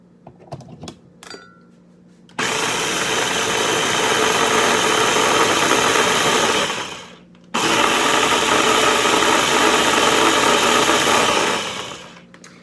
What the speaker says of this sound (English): we're just going to get our little engine out, and we're going to grind it up